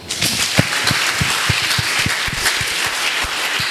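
A church congregation at a worship service claps in a steady, fairly quick rhythm, with many hands slapping together in loose unison and a noisy wash of applause behind.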